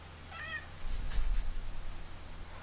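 A pet cat gives a single short meow near the start, rising and falling, then stays quiet over a low steady background hum.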